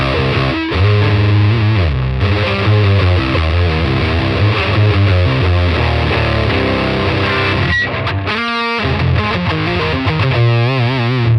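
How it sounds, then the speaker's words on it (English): Heavily fuzzed electric guitar through an octave fuzz pedal, with a buzzy, doubled octave tone, sustained notes and bends, plus a burst of glitchy modulation near the end. "It sounds like an octave fuzz."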